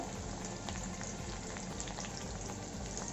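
Chopped onion and curry leaves frying in hot oil, a dense, even crackling sizzle that holds steady throughout, close up and fairly quiet, with no voices.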